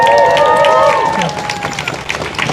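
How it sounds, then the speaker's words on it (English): A crowd at a rally claps and cheers for a speaker, close and fairly loud at the start, then thins out and fades within a couple of seconds while a voice carries over the noise. "Can we give another round of applause for Lana for getting up and sharing that story?"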